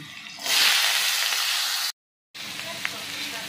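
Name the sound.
cut potatoes stir-frying in hot oil in a wok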